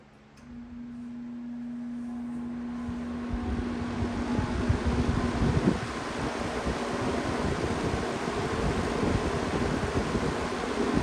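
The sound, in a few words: metal-bladed box fan running on high speed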